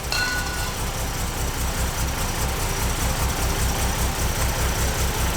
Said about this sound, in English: Hey, that's running on its own power. That is running on injectors.